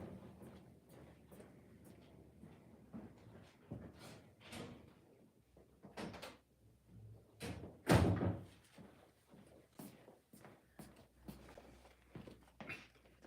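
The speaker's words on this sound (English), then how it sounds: "Let me close the door." A door is closed in a painting studio, a sharp thud standing out among quieter shuffles, knocks and handling noises.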